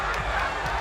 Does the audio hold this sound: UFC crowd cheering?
yes